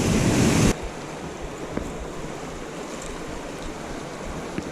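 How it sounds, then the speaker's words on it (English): Fast-moving water in Robinson Creek rushes in a steady broadband roar, loud and close at first, then a more distant continuous flow, with no talk. "The water's really moving."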